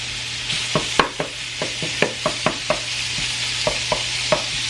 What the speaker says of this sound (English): I'm going to brown up a little less than half of this brown pork.